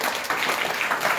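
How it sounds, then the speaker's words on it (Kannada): Students applaud at a camp interaction session, a steady, dense wash of clapping that fills the short moment at an even, fairly loud level. "ಸೂಪರ್, ಜೋರ ಚಪ್ಪಾಳೆ ತಟ್ಟಿ"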